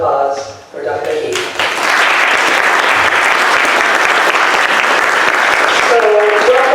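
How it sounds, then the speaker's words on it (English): Audience applause at a university Black History Month event, a dense wash of clapping that swells after a brief opening and holds steady and loud to the end, with faint voices at the start. "So a round of applause for Dr. Mahid."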